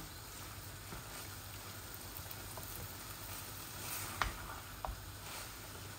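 Potatoes fry in tempered spices for a fish-head and potato curry, a faint, continuous close sizzle with a couple of brief stirring knocks near the end and no talking.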